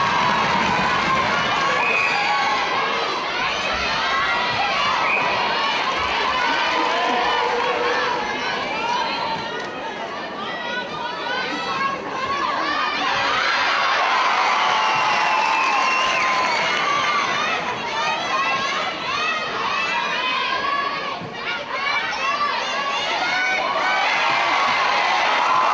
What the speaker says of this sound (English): The crowd ready to erupt here, and they do.